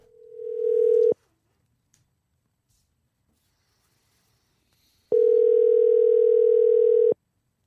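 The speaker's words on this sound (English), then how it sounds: "Phone call, please. Call Mr. Owens." A steady telephone dial tone hums twice, first briefly and then for about two seconds, with silence between.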